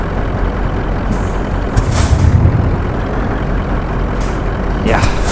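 Heavy truck in Euro Truck Simulator 2 braking, with a sharp air-brake hiss over a rumbling engine, a couple of brief bursts near the middle and end, with someone speaking throughout.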